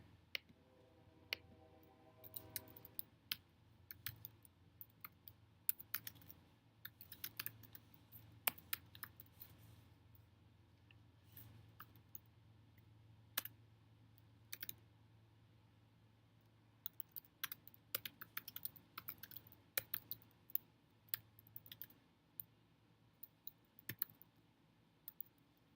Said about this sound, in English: Y'all know I gotta get quiet when I'm typing.